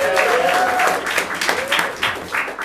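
A theater audience applauds on the opening night of a comedy festival, with loud sustained clapping and a few cheers close by while a voice rises over it.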